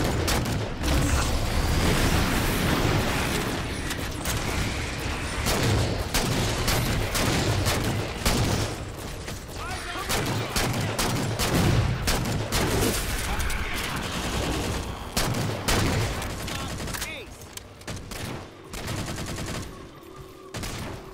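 Rapid turret gunfire in Halo 4, loud sustained bursts of automatic fire with booming impacts and explosions, nearly continuous with brief pauses toward the end, with some voices in the mix.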